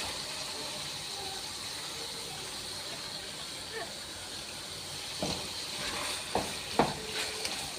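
Spinach cooks down with beef in a pot, giving a steady steamy hiss, and a few louder clattering stirs come toward the end, close by with no talk over it.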